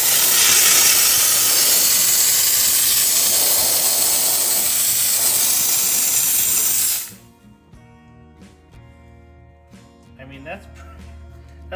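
Steady loud hiss of a Vapamore steam cleaner spraying steam on a car that cuts off after several seconds, followed by quieter clinking and rustling sounds.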